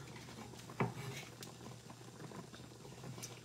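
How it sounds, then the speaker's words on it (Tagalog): Quiet bubbling and popping of liquid boiling in a pot, a soft continuous patter with an occasional louder pop. "Ayan, kumukulo na siya."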